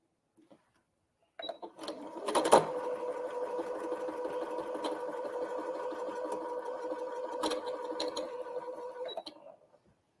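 Sewing machine stitching a quilt block, a steady mechanical whirr running continuously for about eight seconds at moderate volume, with a few sharp clicks near the start and toward the end.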